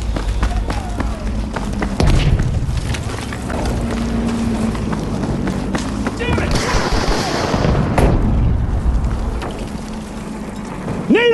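Battlefield combat on Iwo Jima, with explosions and gunfire booming loudly through a dense, continuous battle din while voices shout over the fighting.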